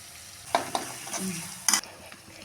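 Spoon stirring ginger garlic paste with curry leaves and fenugreek leaves in a hot kadai for egg gravy curry: a few sharp scraping strokes over a faint, quiet sizzle.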